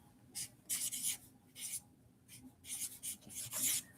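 Pen strokes scratch across paper in short bursts, several quick rubbing scrawls separated by brief pauses, close and fairly quiet with no talking.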